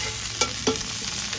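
Zucchini, onions and tomatoes sizzle loudly in a hot pan, with a couple of sharp clicks and scrapes as tongs stir the vegetables, steady frying hiss throughout and no voices.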